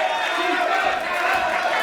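A wrestling crowd at a Hammerlock Wrestling event roars and cheers for Callum Newman, a dense, sustained wall of voices filling the hall without a break.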